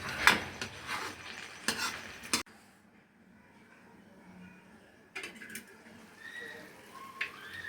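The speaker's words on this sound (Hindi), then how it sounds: "तो पालक हमारा भून गया और सब्ज़ी हमारी तैयार हो गई है।" Spinach and potato curry is stirred in a pan, with a few sharp scraping and sizzling bursts at the start. A quiet lull follows, then softer scrapes and light utensil clinks close by.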